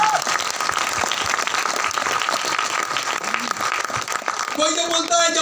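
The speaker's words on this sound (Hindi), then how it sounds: "भाई जोरदार तालियां होना चाहिए" An audience at a Smart Value business seminar breaks into loud, dense applause that fills the hall, and a voice begins speaking over it as the clapping carries on near the end.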